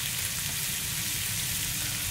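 Pork pieces with skin frying in oil in a pan for dinuguan, a steady loud crackling sizzle that stays even throughout with no talking.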